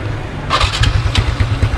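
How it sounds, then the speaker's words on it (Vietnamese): A Yamaha Exciter motorcycle with a stock quiet exhaust, 65 cylinder kit, idles with a low, steady rumble and gives a few short blips of revving, moderately close and without any talk over it. "Mình sẽ cho bạn nghe tiếng máy, sơ lược tiếng máy thôi."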